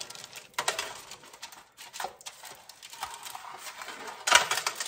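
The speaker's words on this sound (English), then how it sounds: "I'm just using a plastic knife kind of to rub it around the bottom." A plastic knife rubs aluminum foil around the bottom of a pan lined for fudge, giving soft irregular scraping and crinkling strokes with a sharper rustle near the end, heard alone at close range.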